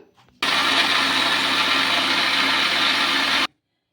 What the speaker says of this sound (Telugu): ఇప్పుడు మెత్తగా మిక్సీ అయితే పట్టేసుకుందాం